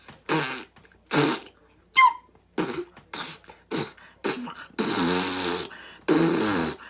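A voice imitates fart noises, making a series of short, sputtering blurts in a steady rhythm, ending with two longer, drawn-out buzzy ones, close and fairly quiet.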